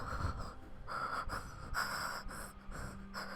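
A voice imitates a killer's heavy breathing with rhythmic, raspy pants and wheezy inhales and exhales repeating steadily at close range.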